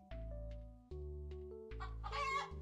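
Chickens clucking in a farming video game, a string of bright clucks over a steady low game-music drone, ending in a louder squawking burst.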